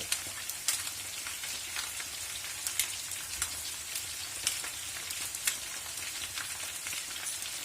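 Sliced potatoes fry in a pan for dinner, a steady, fine crackling sizzle with scattered sharper pops, close but fairly soft, with no talk over it.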